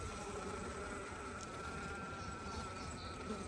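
Honey bees buzz continuously around a hive, a dense, steady drone of many insects close by, with no voices.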